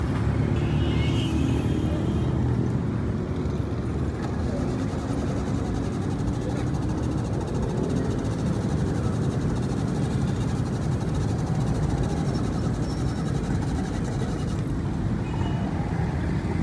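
A car engine runs steadily after finally starting, a continuous low rumbling drone close by that holds an even level throughout with slight fluctuations and no pauses.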